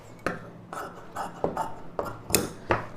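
Sharp scissors snipping through blouse fabric along a marked shoulder line in a tailoring session, roughly eight crisp separate cuts in an uneven rhythm, close and clear with no talk.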